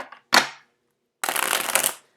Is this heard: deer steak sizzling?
no